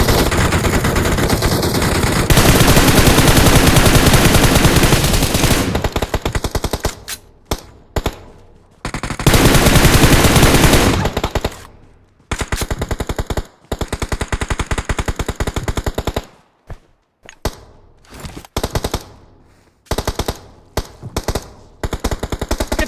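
Machine gun fire in a blizzard mission of a shooter video game rattles in long, loud, continuous bursts, broken by short pauses and then choppy, clipped volleys.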